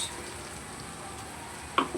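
Ginger garlic paste hitting fried onions in a hot pan, giving a steady, close sizzle with a brief clatter of stirring near the end.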